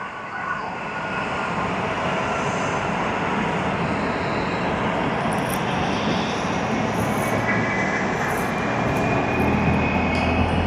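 Jet engines on a Boeing 777-300ER at Tokyo Haneda Airport spool up into a broad, steady roar heard from a distance, slowly rising with a faint high whine on top.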